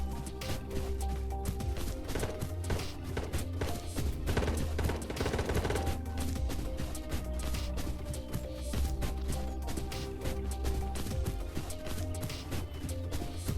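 Gunfire rattles throughout a firefight in the VR shooter Ghost of Tabor. Dense, continuous volleys and bursts of shots overlap at fairly steady loudness, with no clear talk.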